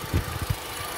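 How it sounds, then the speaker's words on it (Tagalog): A 2009 Honda Stream's engine idles quietly in a low, steady rumble with a couple of soft thumps, heard close with no talking. "medyo tahimik yung makina niya. Ganda yung makina."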